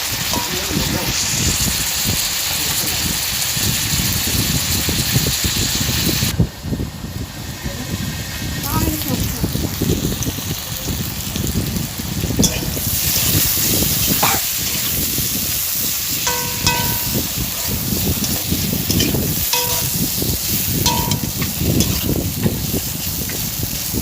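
Papaya, potato and katla fish curry cooks under a lid, giving a loud, continuous, rain-like sizzle and bubbling that runs steadily throughout with a few small clinks.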